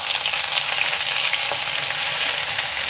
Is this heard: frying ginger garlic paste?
yes